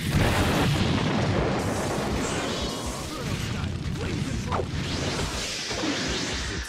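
A fire style jutsu attack in Naruto Shippuden Ultimate Ninja Storm 3 lets out a loud, sustained roaring whoosh with booming blasts and crashing impacts that gradually fade, with a voice speaking beneath it.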